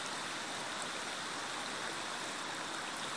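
A stream of water on a rural property rushes steadily and loudly, a continuous broadband flow close by with no voices.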